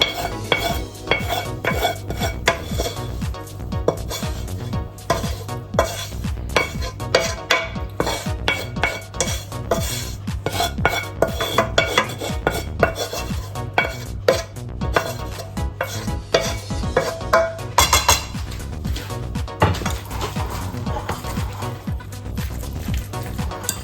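A spoon scrapes and clinks against a cooking pot while peppers and fried onion are stirred, with repeated metallic knocks and sizzling underneath, continuous and close for the whole stretch.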